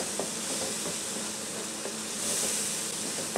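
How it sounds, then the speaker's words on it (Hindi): Spiced masala and softened tomatoes fry in a pan for aloo gobi, giving a dense, steady sizzle and hiss close up, with faint stirring scrapes and no voices. "मसाला अच्छी तरह भून चुका है और टमाटर भी गल चुके हैं"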